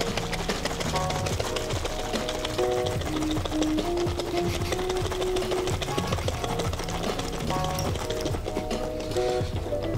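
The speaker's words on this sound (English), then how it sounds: "we're gonna just shake it in this jar to give it a slight whipped effect" Heavy cream is shaken hard in a jar, making a continuous rhythmic sloshing and rattling at close range that keeps a fast, even beat throughout with no voices.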